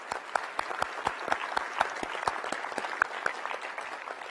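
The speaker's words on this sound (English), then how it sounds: "let's give them all a round of applause." A round of applause from an audience at a NASA and Axiom Space spacesuit unveiling, individual claps distinct and fairly close, steady and moderately loud throughout.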